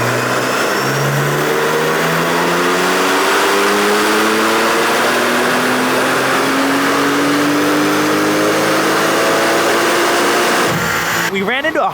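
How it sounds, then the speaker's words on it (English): A 2023 Porsche 992 Turbo S on 91 octane makes a factory dyno pull, its engine rising in pitch in one long loud sweep before dropping off abruptly near the end. "Here goes a factory dyno run on a 2023 992 Turbo S"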